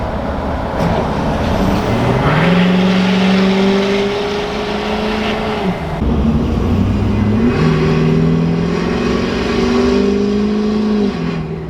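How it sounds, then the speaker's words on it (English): A truck engine runs steadily with rising and falling whistling tones, like a turbo spooling up and winding down, repeating twice over a continuous rumble. "When the turbo is spooling down"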